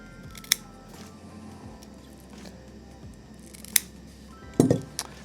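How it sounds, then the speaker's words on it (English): Scissors snipping short tabs of hook Velcro into roughly one-centimetre pieces for a finger splint, giving a few separate crisp close snips, then a final cluster of quick cuts, over a quiet room background. "Cut roughly in half. Each of those short, approximately 1 centimetre pieces of Velcro."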